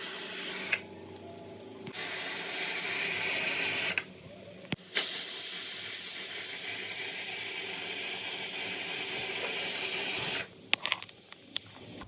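A pressure cooker of rice sits on a gas stove and lets out long, loud bursts of hissing steam, broken by short quieter gaps, the hiss surging strongly near the middle before dropping away.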